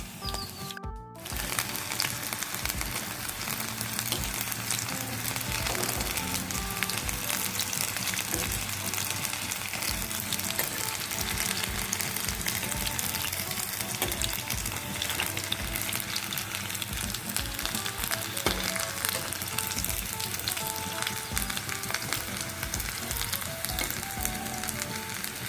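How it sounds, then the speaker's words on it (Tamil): Sliced snake gourd deep-frying in hot oil for chips, a steady dense sizzle and crackle that holds loud and even throughout after a brief opening. "ஆயிலில் போட்டு பொரிச்சு எடுத்துக்கலாம்."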